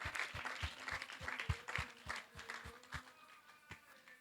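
A church congregation claps hands in praise to Jesus Christ, with a steady rhythm of sharp, fairly close claps under a murmur of voices and faint singing.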